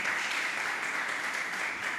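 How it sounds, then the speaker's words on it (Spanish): Steady, dense applause from a church congregation fills the whole stretch, a broad even roar of many hands clapping without pause. "Aplaudo al Señor."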